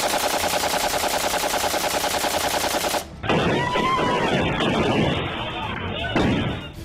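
Rapid bursts of celebratory aerial gunfire at a wedding ceremony in Charsadda ring out loud and continuous for about three seconds, followed by a noisy, rumbling crowd scene.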